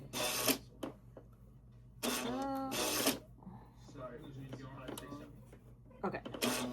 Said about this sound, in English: My sewing machine's acting crazy.